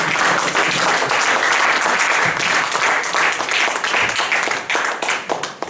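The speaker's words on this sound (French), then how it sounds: "s'il vous plaît, acclamons." A congregation applauds a reverend at a church Women's Day service, with dense, sustained clapping from a crowd that stays loud throughout and thins out slightly toward the end.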